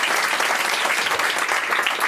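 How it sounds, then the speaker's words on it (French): A French stand-up audience claps together on cue, a dense steady patter of many hands that stays loud and even for its whole length with no voice on top. "Montrez-moi comment vous applaudissez."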